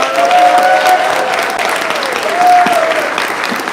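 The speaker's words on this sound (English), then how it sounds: "Could we get another round of applause for our newly sworn-in attorneys?" An audience at a ceremonial swearing-in applauds newly sworn-in attorneys, steady dense clapping filling the room, loud and continuous throughout.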